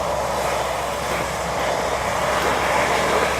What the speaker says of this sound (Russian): Проезжает машина, очень шумно.